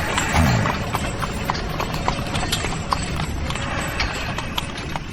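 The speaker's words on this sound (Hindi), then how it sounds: "आगे का रास्ता चढ़ाई वाला था, इसलिए घोड़े आराम से चल रहे थे।" Horses pull a carriage at a relaxed walk up a climbing road, hooves clip-clopping steadily and evenly at close range, with a faint snort or whinny near the start.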